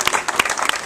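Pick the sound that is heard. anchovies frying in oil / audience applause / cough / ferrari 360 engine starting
audience applause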